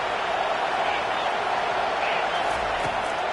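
Stadium crowd in an NCAA football video game, Georgia versus Oklahoma, a steady, dense roar that fills the whole stretch without letting up, with faint bursts of cheering within it.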